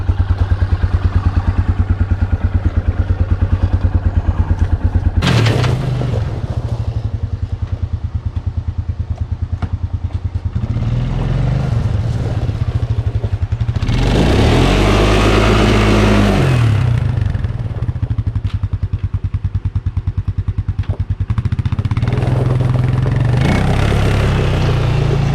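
A 2002 Arctic Cat 500cc engine runs loud and close at a steady, throbbing idle. A brief rise in revs swells in the middle before it settles back to its even putter.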